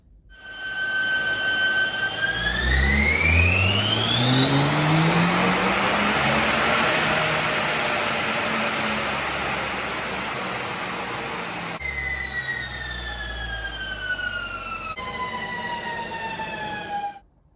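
A 2.0 TSFI car with a Ramair induction kit and stage 1 tune revs hard on a dyno, engine pitch climbing steadily through a long loud pull, then gear changes drop and rebuild the pitch before cutting off.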